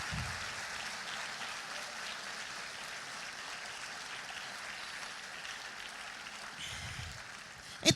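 A church congregation applauds during a Portuguese-language sermon, a steady, fairly quiet wash of many hands clapping that holds evenly throughout before a brief louder bump at the very end.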